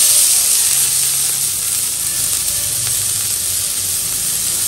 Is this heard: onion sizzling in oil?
yes